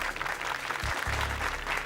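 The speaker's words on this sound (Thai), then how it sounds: "ขอเสียงปรบมือให้น้องเซฟด้วยครับ" Steady, dense applause from a studio audience for a young performer on a Thai reality show, heard up close and evenly sustained throughout, with no talking over it.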